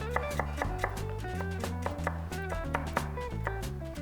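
A knife chops white onion into small pieces on a cutting board, sharp even taps repeating steadily over light background music, with no talking.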